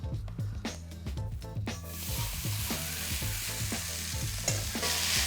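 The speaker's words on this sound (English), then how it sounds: "we're gonna do the noodles in there and fry them for like 2 to 3 minutes in a little bit of oil and a little bit of soy sauce as well" Noodles fry in a pan with a little oil and soy sauce, a broad sizzling hiss that swells after a couple of seconds and stays steady beneath rhythmic background music.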